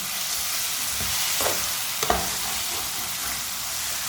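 Raw tomato curry sizzles steadily in a hot pan, with a few soft scrapes and knocks as it is stirred, close and continuous with no talking.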